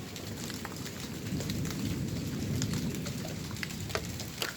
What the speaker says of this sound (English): this rain it's a little weird.